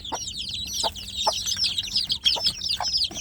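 Newly hatched native village chicks peep constantly in a box, a dense, close chorus of high, rapid chirps overlapping without pause.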